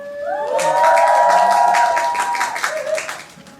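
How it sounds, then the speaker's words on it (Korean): A theater audience at a special curtain call for the musical "6시 퇴근" claps steadily. Performers sing sustained notes over the applause, which fades near the end. "박수도 많이 많이 쳐주시면 감사하겠습니다"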